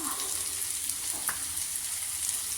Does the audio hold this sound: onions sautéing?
yes